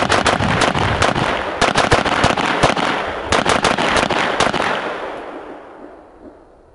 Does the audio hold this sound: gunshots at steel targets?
yes